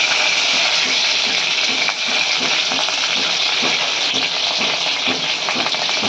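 Green chilies sizzling in hot oil with cumin seeds in a pan, a loud, steady, close frying hiss throughout with no talking.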